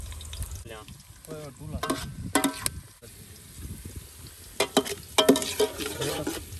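Spoon scraping and stirring in a pot of biryani with sizzling, bubbling food, irregular clanks close by, with people talking intermittently in Hindi.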